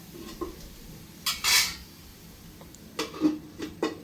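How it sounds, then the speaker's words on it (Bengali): A lid is set on a pot of bottle gourd simmering with prawns, giving a few quiet metallic clanks and scrapes of cookware close by, with short pauses between them. "এখন আমি লাউটা ঢেকে দেব"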